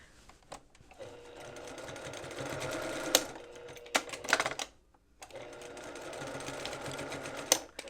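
A sewing machine runs in steady bursts while basting fabric for a reversible petal wrap dress, each stretch of stitching stopping briefly before starting again, close and fairly loud with no talk.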